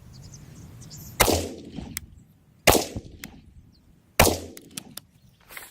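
Three rifle shots from a PSA 20-inch upper with an FN barrel, fired outdoors one at a time. Each sharp, loud report is spaced about a second and a half apart and followed by a short echoing tail.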